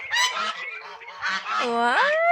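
Geese honk loudly and close by, their nasal calls rising and bending in pitch in a short burst of overlapping cries.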